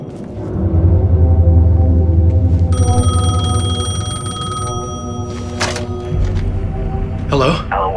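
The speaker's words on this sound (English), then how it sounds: "phone was ringing" A telephone rings in the Alan Wake 2 video game, with a steady electronic ring tone held for a couple of seconds over a low ambient drone, followed by brief clicks and rustles.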